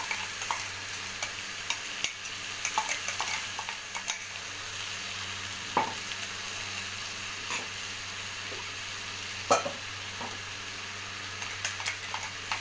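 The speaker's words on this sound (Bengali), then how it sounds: "পেঁয়াজ রসুন আদার পেস্টটা দিয়ে দেবো" Onion, garlic and ginger paste mixed with chili fries in a pan over a medium-to-low flame. It gives a steady, close sizzle broken by scattered clicks from stirring.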